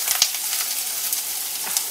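Curry leaves sizzling in hot ghee with chillies for bread upma, a bright crackling hiss with a few sharp pops near the start and again toward the end, close and steady.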